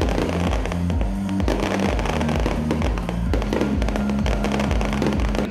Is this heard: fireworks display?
yes